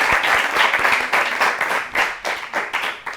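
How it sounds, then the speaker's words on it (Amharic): Children clap in welcome for arriving students, a quick burst of close, loud, uneven clapping that comes in short rhythmic waves and stays steady through the brief stretch. "እሺ አጨብጭቡላችሁ እስቲ።"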